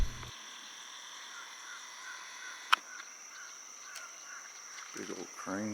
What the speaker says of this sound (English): Big old crane.